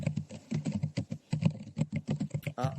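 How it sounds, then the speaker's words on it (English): Rapid keystrokes clatter on a computer keyboard in an uneven rhythm, fairly quiet and close, with a brief burst of other noise near the end. "You seem to be typing"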